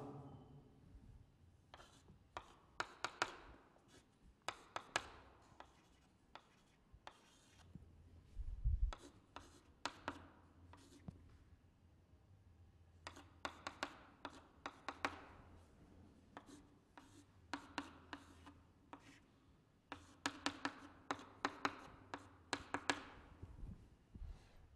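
Handwriting during a chemistry lecture on aldol condensation, likely chalk or marker on a board: bursts of quiet scratchy strokes and taps in clusters, with gaps between, fairly faint and alone.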